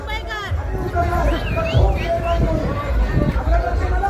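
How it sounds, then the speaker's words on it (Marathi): A dense village festival crowd during a procession, with loud continuous chatter and excited shouting voices close by, one voice rising in drawn-out calls above the steady babble. "एवढा उत्साह आणि जल्लोष या ठिकाणी आपल्याला पाहायला मिळतोय"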